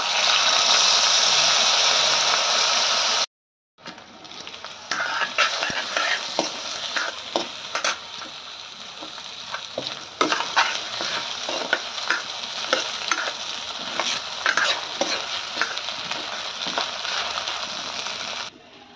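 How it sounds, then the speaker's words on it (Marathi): Washed, drained rice for kheer is stirred in hot ghee, opening on a sharp hiss, then a short break, then repeated scraping and rustling sizzle close by. "आता हे तुपामध्ये छान परतून घेऊया आपण।"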